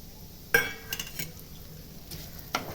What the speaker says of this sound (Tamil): ரவையும் சேமியா நல்லா வறுத்தாச்சு பாருங்க